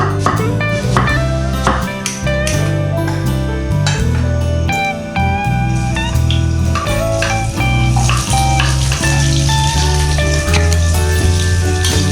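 Food cooks on a small stove, a loud, dense sizzle with clattering and scraping of utensils throughout.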